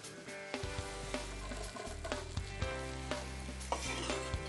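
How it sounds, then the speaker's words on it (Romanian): Onion sizzling in a pan of rice oil and butter: a loud, dense, continuous frying hiss close by, with occasional scraping stirs and clicks and no voices. "Trebuie să sfârâie."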